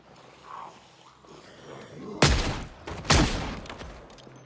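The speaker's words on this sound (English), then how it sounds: "but they heeded the gunshot, as I predicted" Two sharp, loud gunshots fired a second apart in the zombie survival game Project Zomboid, standing out over a quiet ambient background.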